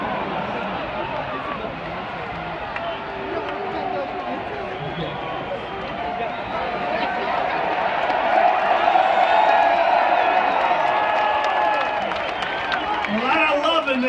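A massive crowd at the 2017 National Jamboree roars with cheering and applause, a dense continuous wash that swells louder in the second half, with a voice carrying over it.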